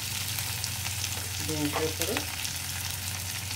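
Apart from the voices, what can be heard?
vegetable pieces frying in tempering oil for sambar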